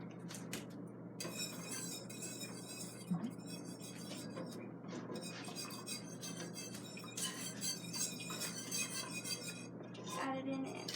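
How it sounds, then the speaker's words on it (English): Custard for cookies and cream is whisked in a bowl in a home kitchen, with metal clinking and scraping against the bowl in a busy, uneven rhythm that continues throughout. "Add it in and whisk."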